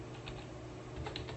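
Quick, light clatter of keys as commands are typed on a computer keyboard while configuring a Cisco 2960 network switch, soft and close in a quiet room.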